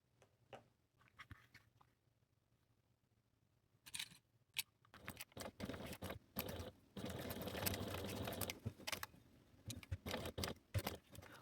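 A sewing machine top stitches faux leather with bursts of rapid stitching after a quiet start, near and fairly soft, stopping and restarting in short runs.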